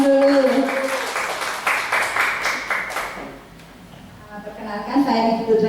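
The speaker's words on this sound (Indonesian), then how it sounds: "Ya, tepuk tangan untuk Ibu Komang dulu." A small audience claps for a presenter named Ibu Komang at a teachers' dissemination session, scattered hand claps mixed with voices, fading midway before voices pick up again near the end.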